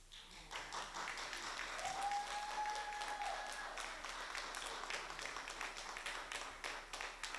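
Audience applause following a presentation at a talk on adults with intellectual and developmental disabilities, steady moderate clapping from a small crowd lasting several seconds, with a faint tonal sound briefly audible underneath.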